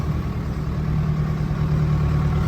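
A Ford 6600 tractor idles steadily during hay carting on a farm: a constant close, loud engine rumble with a low, even throb and no change in pace, heard alone without talk.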